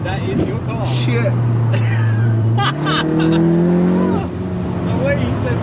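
A modified Golf R with a 500 bhp engine revs, its steady low drone climbing in pitch as the engine winds up, loud and close, while people talk over it.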